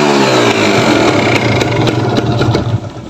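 A 2013 Kawasaki Ninja RR engine running close and loud, a steady buzzing idle with slight irregular flutter throughout and no talk.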